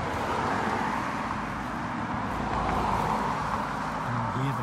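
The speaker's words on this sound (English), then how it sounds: "And hear the cars going past." Cars pass on a nearby road beside a rural fence line, giving a continuous low traffic rumble with gentle swells as vehicles go by, with no talking heard.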